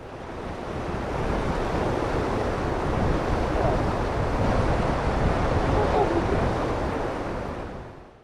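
Rushing water at Hydro Rapids on Ontario's White River makes a dense, continuous roar, close and fairly loud, steady throughout before fading at the end.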